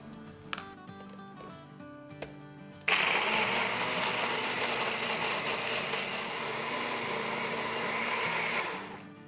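A kitchen grinder blends Schezwan chutney with a few ice cubes, opening with a few light taps and clinks before a loud, steady whirring grind that runs for several seconds and then winds down.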